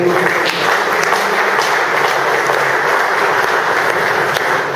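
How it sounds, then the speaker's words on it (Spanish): Priests and seminary formators at a plenary session in Argentina applaud in a steady, dense roar of clapping that holds evenly throughout. "Otro aplauso."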